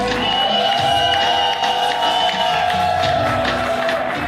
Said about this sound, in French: La collation s'est faite sous nos acclamations.